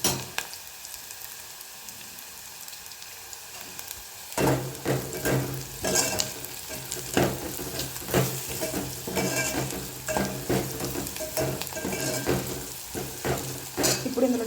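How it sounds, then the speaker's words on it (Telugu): A spoon stirs turmeric into fried onions in a hot pan, with scraping strokes against the metal over a continuous sizzle; it stays quiet at first, then grows louder and busier with repeated stirring clatter. "ఇందులో కొంచెం పసుపు వేసుకొని కలుపుకుందాం."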